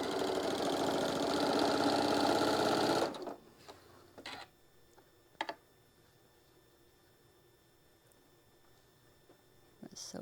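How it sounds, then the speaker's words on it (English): A sewing machine runs fast and steady while stitching narrow fabric strips along an edge for a stained glass quilt block, a loud close whirring burst that stops abruptly, followed by faint handling clicks. "So just be very precise on sewing right there along that edge and try not to wobble."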